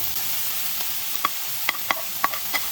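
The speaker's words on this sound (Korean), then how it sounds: "나머지 채소는 중불로 빠르게 휘리리 볶아주시면 됩니다" Eggplant and vegetables stir-fried in a pan over fairly high heat, a steady background sizzle broken by a handful of sharp clinks and scrapes of the spatula against the pan, close and moderately loud, with no voices.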